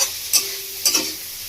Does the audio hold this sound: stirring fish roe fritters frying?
yes